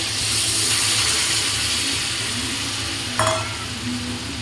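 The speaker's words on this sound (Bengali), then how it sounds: "আমি এর মধ্যে জল দিয়ে দেবো" Water hits a hot pan of frying vegetable and prawn curry, throwing up a loud, steady sizzle and hiss with a brief sharper burst near the end, no voices.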